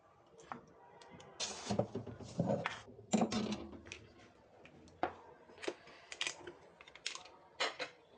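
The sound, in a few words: cutting chicken into small pieces with a knife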